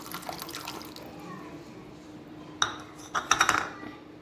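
Water poured into a bowl of small-grain sabudana (tapioca pearls) set to soak overnight for a summer drink, a soft splashing trickle followed by a few sharp clinks of a utensil against the container, with light talk.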